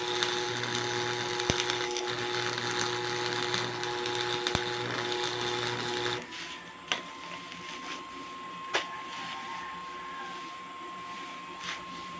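A power drill bores holes through the frame of a homemade upper box, a steady motor whine lasting about six seconds, then stopping and leaving a quieter room tone with a few sharp clicks.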